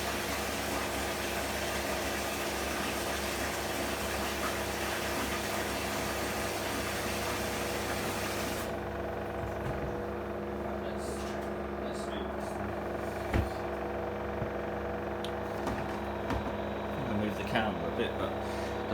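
The drum of an LG F1496AD5 washing machine spins steadily on a turbo drum cleaning cycle, making a low even hum and whir with faint knocks and clicks. The hiss in the upper range drops away about halfway through.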